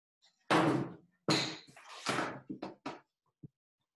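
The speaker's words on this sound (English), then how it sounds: "Poole used an axe to ram the door hinges. The first strike let out a loud crash." An axe rams against door hinges in an audiobook sound effect, landing as a series of loud, heavy wooden crashes and thuds in quick succession, the first blows biggest, then smaller knocks trailing off with no voice over them.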